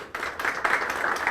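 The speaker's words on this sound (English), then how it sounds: "Give yourselves another huge round of applause." A graduation audience in a hall applauds with dense, continuous clapping that swells and holds for a moment.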